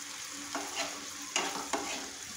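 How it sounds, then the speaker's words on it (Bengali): Potatoes and raw onions fry in oil with spices while being stirred, a soft steady sizzle with three or four distinct scraping strokes of the spoon against the pan. "নেড়ে চেড়ে এই আলুগুলোকে আমি ভেজে নিব এই তেলের মধ্যে"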